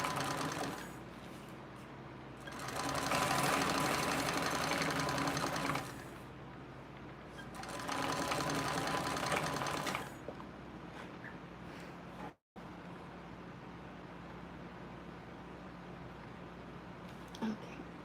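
A sewing machine stitching in a few runs, its steady motor whir rising in two sustained bursts with quieter pauses between, close and clear with no talk over it.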